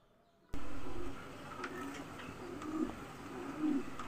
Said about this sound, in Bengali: আমাদের যে ঘুঘু পাখিগুলি খাঁচার মধ্যে রাখা হয়েছে